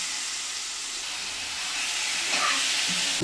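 Masala with coriander leaves sizzling in a spoonful of ghee, giving a steady broadband hiss that swells slightly louder near the end, close up with no talking.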